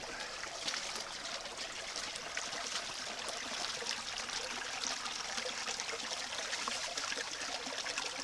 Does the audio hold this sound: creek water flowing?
yes